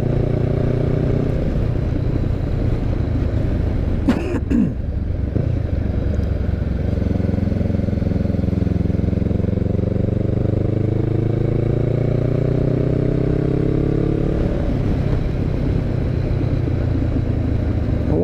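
A Honda CB500X motorcycle engine pulls hard uphill from low revs, its loud steady drone rising gradually in pitch over a long stretch, with a brief clatter partway through.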